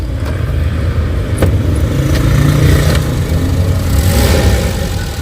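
A 1990 Toyota Lite-Ace engine runs steadily at idle, a close, continuous mid-pitched hum with faint ticking and slight rises in pitch, heard alone without talk.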